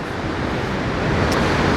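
Ocean waves added as an editing sound effect: a steady, full wash of surf noise that swells slightly toward the end, with no voice over it.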